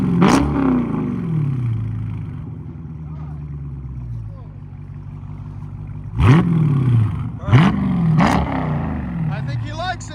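A 2019 Dodge Charger Scat Pack with a 6.4L HEMI V8 and AWE Track cat-back exhaust rumbles at a deep, close idle, broken by several sharp throttle blips that rise to a roar and settle back down.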